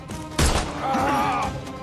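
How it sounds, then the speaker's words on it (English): Shotgun fire in the Sherlock Holmes Chapter One video game: a single sharp, loud blast cuts through steady background noise, then a sustained ringing tail follows. "Why is he using a shotgun?"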